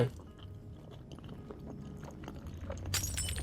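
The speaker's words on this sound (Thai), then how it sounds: "เมื่อกี้เสียงกระจกแตกแล้วเว้ย" Glass shatters inside the horror game Fears to Fathom: Home Alone, a bright sudden crash near the end following a stretch of low muffled bumps and crunchy chewing-like noises.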